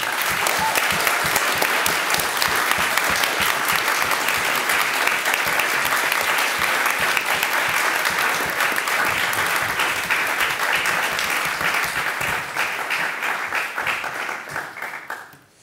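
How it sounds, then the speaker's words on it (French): A large crowd applauds steadily and loudly for the jury at a university debating final for about fifteen seconds, the clapping thinning slightly and fading out at the end. "je vous demanderai un tonnerre d'applaudissements pour notre jury"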